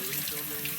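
Hands being washed under a running tap, a steady close hiss of flowing water splashing into a sink, brief and continuous.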